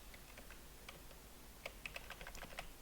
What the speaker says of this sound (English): Scroll down using cursor keys